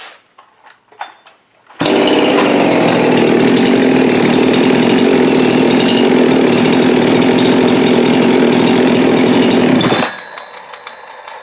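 A Husqvarna 372XP X-Torq chainsaw with an OE 51.4 XPW cylinder bursts into a loud, steady running roar after a brief quiet start, holds for about eight seconds, then drops back toward idle.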